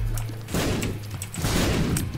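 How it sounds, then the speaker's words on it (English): Bursts of explosions from spiders blowing up in The Binding of Isaac video game, a cluster of booming pops in two waves over a low hum, fairly loud and with no talk. "I just heard a whole bunch of explosions up there"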